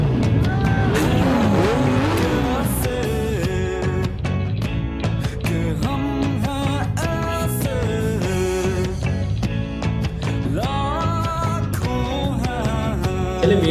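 Rally cars racing at the Gwadar rally, with loud engine roars and tire noise from passing vehicles, alongside crowd noise and busy background sound throughout.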